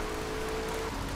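Steady rain falls in the video game Grand Theft Auto III, a continuous broadband hiss that stays at an even level, with a faint tone running under it and no voices.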